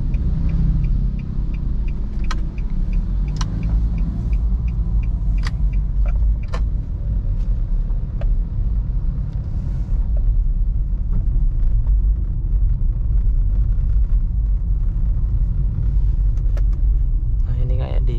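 A 2017 Nissan Grand Livina SV automatic drives over a rough, bumpy road, its low engine and road rumble steady throughout, with occasional rattles and clicks from the cabin.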